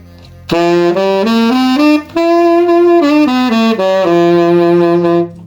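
A single sustained guitar steps up and down through a pentatonic scale pattern starting on D, clear and close, each note held with brief gaps between phrases.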